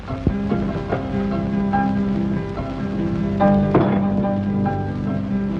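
Steady rain falls and patters on surfaces throughout, mixed with a sustained musical drone and a few sharper hits.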